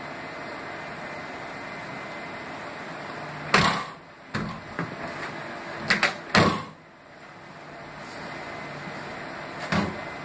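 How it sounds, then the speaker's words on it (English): A van's rear door being worked, with a welded, hinged spare tire carrier mounted on it: several separate metallic clunks and latch knocks spaced over a quiet outdoor background, one sharp bang near the middle. "You can still open the door."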